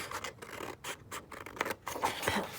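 Scissors snip and scrape through a sheet of Tim Holtz patterned paper, a quick sequence of close, crisp cuts with short pauses between strokes.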